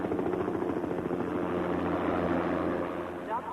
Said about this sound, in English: Medevac's here with Steve